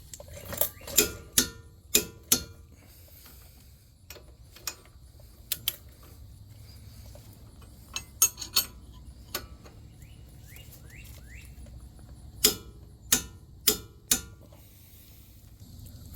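A ratcheting wrench with 21 and 24 mm sockets torques a bolt to 130 foot-pounds during an engine replacement on a 2014-2017 Mazda 6 2.5L. It makes crisp, close mechanical clicks in quick bursts, separated by quieter pauses with low workshop hum.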